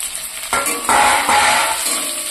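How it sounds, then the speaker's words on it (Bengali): Chopped tomatoes hit a hot frying pan while fried rice is being made, and a loud, close, continuous sizzle erupts after a short quiet start and carries on alongside faint stirring. "এবার কেটে রাখা টমেটোগুলো দিয়ে দিচ্ছি।"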